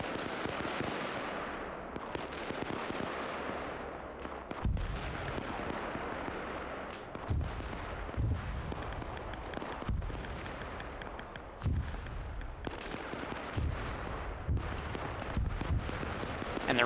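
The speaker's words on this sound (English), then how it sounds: "But now we're going to bombard this position too." Artillery bombardment of a position in a trench warfare game, heard as a barrage of heavy booming blasts, some near and loud, some more distant, landing in irregular succession with rumbling decay between impacts and no voices.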